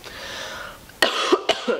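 A woman coughing indoors: two sharp, close coughs in quick succession after a quiet stretch, with a smaller throaty catch trailing at the end.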